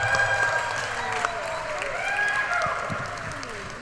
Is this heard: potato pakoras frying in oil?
no